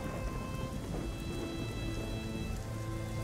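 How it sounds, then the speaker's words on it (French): Steady heavy rain falls at a fair in the Black Mirror 2 video game, a dense continuous wash of drops with a low rumble beneath, loud and unbroken. "la fête foraine, un jour de pluie"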